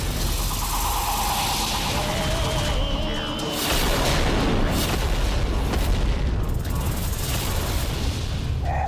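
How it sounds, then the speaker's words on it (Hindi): Explosion sound effect in a mythological TV drama: a dense, sustained roaring blast with rumbling low booms and crackling debris, loud and continuous throughout, layered with dramatic music. "ऐसा विनाशक विस्फोट"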